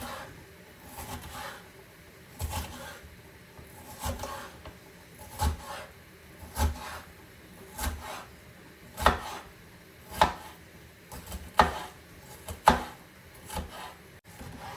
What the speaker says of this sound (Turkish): Soğanı da, kökü de biberi de eyni boyda doğrayıram.